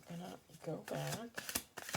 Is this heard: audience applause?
no